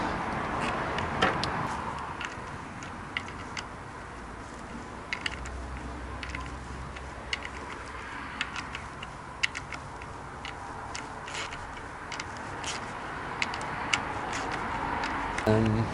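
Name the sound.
torque wrench tightening Triumph Speedmaster engine plate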